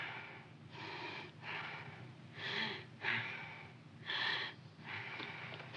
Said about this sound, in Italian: Respiri forte.